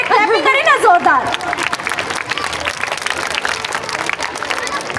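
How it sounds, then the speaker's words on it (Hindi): Audience clapping at a school Independence Day celebration, a steady dense applause that fills the space after a brief sung or spoken opening, with crowd murmur mixed in. "इसलिए क्लैपिंग करें ना जोरदार"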